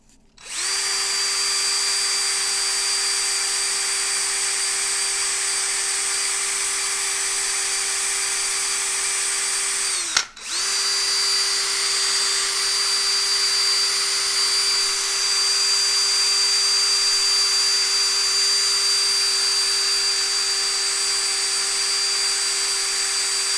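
A power drill spinning 2000-grit sandpaper for polishing whines at a steady high pitch for a long stretch, briefly stopping and starting again partway through, loud and close, no voices.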